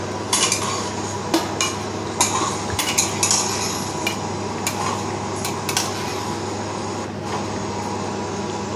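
Fried eggplant goes into a wok and is stirred, giving repeated sharp metal scrapes and clinks of a utensil against the pan over a steady background hum, with no talking.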